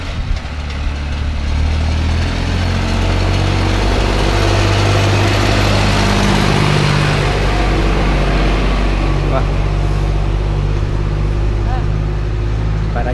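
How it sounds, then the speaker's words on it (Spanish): A tractor engine rumbles steadily on a quiet rural island road, its low droning hum holding loud and continuous throughout as it passes close by, with no voices over it. "el único ruido que hay es ese, sí, el tractor"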